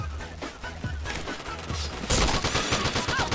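Rapid bursts of gunfire from a shooting video game, loud and dense, getting heavier and more continuous in the second half, with a brief voice mixed in.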